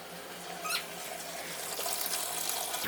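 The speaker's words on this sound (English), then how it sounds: "Oh, it's continuing to spurt here with the water off." Water spurts and splashes into a bucket from newly installed plumbing in a hangar home, a steady hissing gush with sputtering bursts as air works through the lines.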